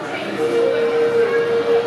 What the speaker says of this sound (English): And there's a Toronto rocket train.